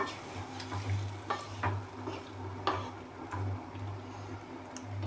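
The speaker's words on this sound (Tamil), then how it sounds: "இது லைட்டாக கத்திரிக்காய் உடையாமல் கிளறி விடுவோம்" Brief scraping and clinking of a spoon stirring brinjal in a pan, repeated at irregular intervals over a steady low sizzle of frying oil.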